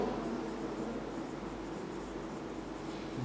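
Faint, continuous writing rustles under a steady hiss, the pen moving without pause and no talking.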